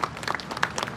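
A crowd at a Chinese military parade on Tiananmen gives dense, steady applause, a brief continuous patter of many hands clapping.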